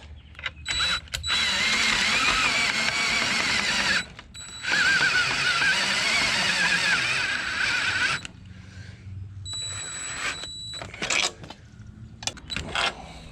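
Fasteners being snugged down on a FlexStep Pro boat step mounting to the rail of a Triton 21 TRX bass boat: rough ratcheting and creaking mechanical bursts, close and fairly loud, broken by brief pauses.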